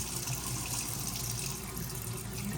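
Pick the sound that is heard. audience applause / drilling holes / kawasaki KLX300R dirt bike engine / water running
water running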